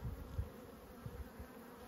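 A honeybee colony buzzes softly inside a hive box with brood, a faint low hum with a few slightly louder swells and no talk over it.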